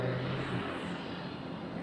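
A manual car's engine revs hard from too much throttle on a road, a loud, steady, droning roar that holds through the moment and eases slightly toward the end.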